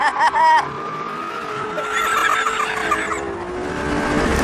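A BMW Z4 slides sideways on a race track, tires squealing in a long, wavering screech over engine noise after a brief sharp burst at the start.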